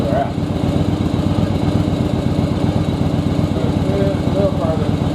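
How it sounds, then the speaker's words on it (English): A second-generation Yamaha Virago motorcycle idles steadily during carburetor air/fuel adjustment, a close, even, continuous engine rumble with a fast regular pulse and no break throughout. "you can hear the bike's not struggling as much because the carbs are working together"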